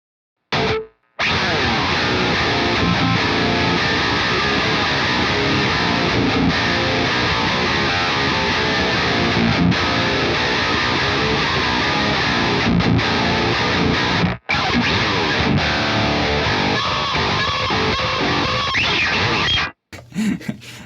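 Heavily distorted electric guitar through Fortin 33 and Fortin Zuul pedals, played continuously and loud, thick saturated tone with effects, breaking briefly near the start and middle before stopping.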